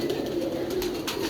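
Pigeons coo in a low, continuous murmur that runs through the whole short stretch, fairly close and steady, with a few brief brighter rustles near the end.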